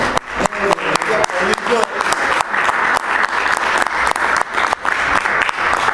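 Sustained applause from a lecture audience, dense and steady throughout with a few voices mixed in beneath the clapping.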